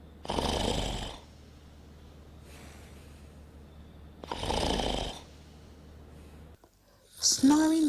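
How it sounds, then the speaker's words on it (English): A person snores loudly and nearby in two long rasping breaths separated by quiet pauses, followed by a brief snort and a voice at the end. "Snoring is a phenomenon that is easily found in our society."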